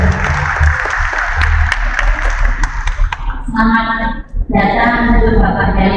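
Audience clapping at a Ramadan welcoming gathering of Islamic religious education teachers rings out for about three seconds, then gives way to music with a steady low hum.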